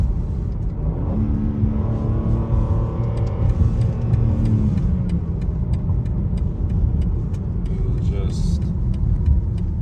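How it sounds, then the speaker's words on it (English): Engine of a 2022 BMW M3 Competition xDrive rumbling and revving through several downshifts, a loud close drivetrain roar with stepped harmonic rises and falls over the first half, then steady cabin road drone. "Downshifts sound amazing, super responsive."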